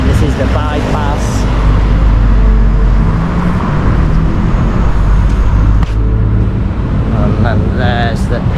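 Steady, loud road traffic streams past on the bypass in Sanur, Bali, a continuous rumble of cars and motorbikes close by with engine noise and passing vehicles throughout.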